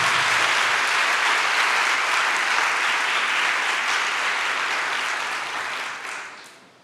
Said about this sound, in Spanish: Si le va a aplaudir, apláudale fuerte al Rey.